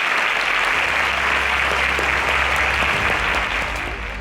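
A studio audience at a grand finale competition show applauds a contestant, steady dense clapping that stays loud throughout and eases slightly at the close.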